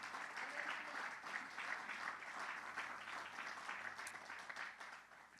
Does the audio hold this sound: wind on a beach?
no